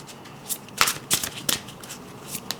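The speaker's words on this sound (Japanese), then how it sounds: "そして最後にもう一枚オラクルカード引いてみます" Oracle cards being shuffled and drawn by hand, a run of crisp papery riffles and flicks in uneven bursts, close and fairly quiet with no talking.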